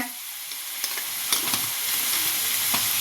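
Potato pieces sizzle in a hot frying pan while being stirred, with a steady crackling hiss broken by a few sharp scrapes and clinks of the spoon against the pan, close up and without talk.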